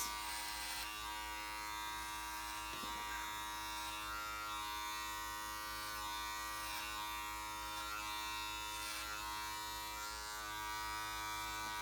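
Electric hair clippers cutting a man's hair around the ears, a close continuous buzzing hum that holds steady throughout with slight changes as the blade moves.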